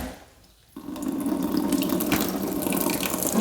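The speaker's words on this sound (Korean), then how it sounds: "이렇게 보시면 샤워기를 틀어서" Shower head switched on to spray water over a freshly repotted houseplant, a sudden steady hiss of running water that stays constant after it starts.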